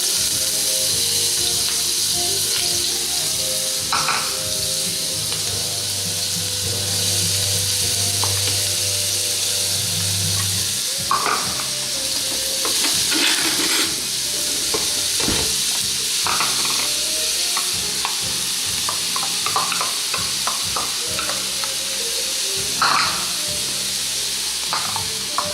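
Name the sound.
onions, celery and peppers sautéing in heated olive oil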